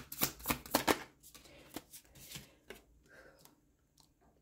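Tarot cards shuffled by hand, with a quick run of crisp riffling snaps near the start, then softer scattered card flicks and slides fading off.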